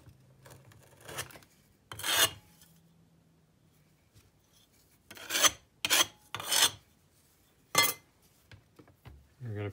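Clay being scraped off a four-inch sand casting flask, several short rasping scrapes in separate strokes with quiet pauses between, close and fairly loud.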